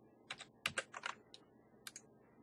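A computer keyboard is typed on in a quiet room: a short run of soft, close key clicks in small bursts with brief pauses between them.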